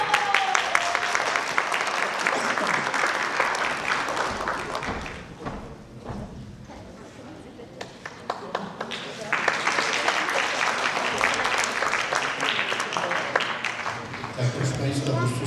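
An event audience gives sustained, loud applause for a first-place team, dipping briefly in the middle and then swelling again, with a voice talking over the clapping in places.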